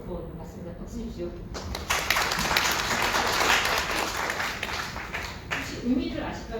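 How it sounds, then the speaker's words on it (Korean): An audience at a public-institution careers lecture breaks into applause after a quiet start with some talking. The dense clapping swells and holds for several seconds, then falls off toward the end. "박수 주십시오"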